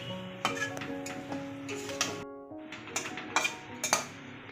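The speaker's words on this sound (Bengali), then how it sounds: "সবকিছু আবার একটু ভালো করে মিশিয়ে নিতে হবে।" Chicken pulao ingredients with garam masala being mixed in a metal pot, a series of close clinks and scrapes of a spoon against the pot in an uneven rhythm.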